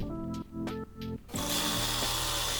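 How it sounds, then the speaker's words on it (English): Sewing machine stitching a folded one-inch hem on a puffy tiered tent dress, starting in short stop-start bursts, then running in a steady, close, loud whir. "And I sew up the 1-inch hem by folding up 1/2 inch, then 1 inch."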